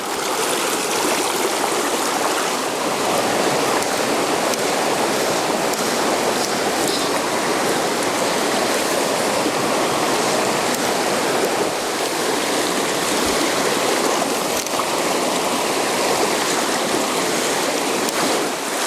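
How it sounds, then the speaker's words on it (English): A small river cascading quickly over rocks makes a steady, dense rushing roar, continuous and close throughout with no voices. "a lot of these smaller rivers cascade pretty quickly"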